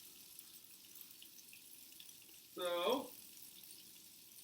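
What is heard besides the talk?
water sucked through a Buchner funnel under vacuum suction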